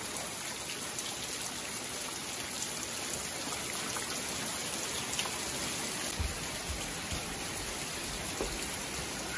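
Steady rain falls outside in a dense, even hiss of drops spattering on surfaces, constant and unbroken, with no voices.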